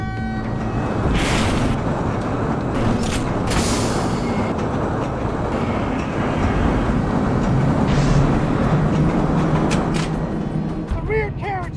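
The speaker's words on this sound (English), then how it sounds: "Pushing the train." A train rolls along in the video game Ground Zero, with loud continuous rumbling and rail clatter, occasional hissing bursts and squeals, and a voice talking over it.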